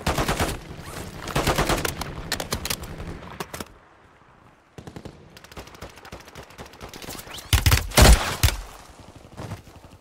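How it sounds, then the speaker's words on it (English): Bursts of automatic gunfire and rapid shots in Call of Duty Warzone 3 trios, dense volleys in the first few seconds, a quieter lull, then a loud close burst near the end. "I'm taking fire."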